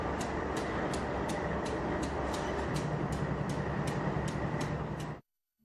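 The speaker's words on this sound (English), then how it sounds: "this was the first freight train to emerge from Glenwood Canyon" A freight train emerging from Glenwood Canyon passes as a steady, dense rumble with regular clicking wheel beats, continuous and fairly close, then cuts off abruptly near the end.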